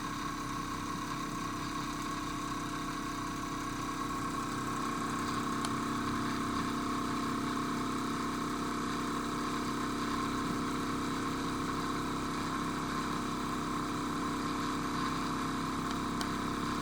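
A homemade pulse motor spins steadily near 2,000 RPM, giving a continuous rapid buzzing drone with fine rhythmic pulsing, close and unbroken.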